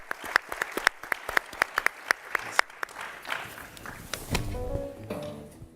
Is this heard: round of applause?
yes